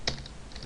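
Short burst of typing on a computer keyboard, a few quick close keystrokes with no speech.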